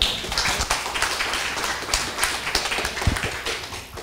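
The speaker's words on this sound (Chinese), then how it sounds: "请掌声欢迎" A class of students claps to welcome a lecturer at the start of a lesson in a lecture hall: scattered, uneven handclaps of moderate loudness for about four seconds, fading at the close, with no talking.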